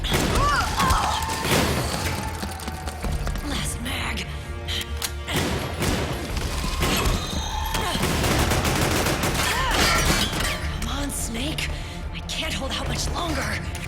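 Gunfire in Metal Gear Solid 4: dense, continuous bursts of automatic fire and sharp single shots with thuds and crashes throughout, mixed with voices talking over the battle.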